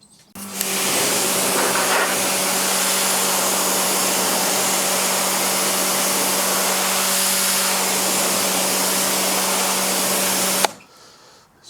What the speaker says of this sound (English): I'm just going to pop the power washer on that